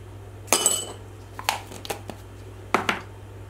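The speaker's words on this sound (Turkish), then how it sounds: "Şöyle bir tatlı kaşığıyla kabartma tozumu ilave ediyorum." A dessert spoon clinks against a mixing bowl while baking powder goes into the batter for a caramel pistachio chocolate tart cake. Four or five short, bright metallic taps come close and spaced out over a quiet kitchen background.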